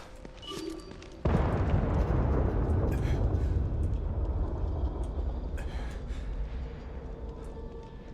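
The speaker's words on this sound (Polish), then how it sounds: "Coś wybuchło i wszyscy tam teraz idą." A sudden loud boom from an explosion in the video game The Evil Within 2 erupts and then rumbles on, slowly fading over several seconds.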